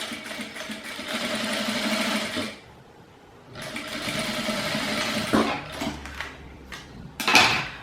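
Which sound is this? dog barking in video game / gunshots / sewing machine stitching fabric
sewing machine stitching fabric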